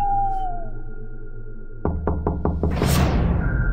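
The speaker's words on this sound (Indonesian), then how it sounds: "dikejutkan dengan suara pintu kamarnya diketuk" Five sharp knocks on a bedroom door, evenly spaced and loud, break in after an eerie tonal drone in a ghost-story setting, followed by a rising whoosh.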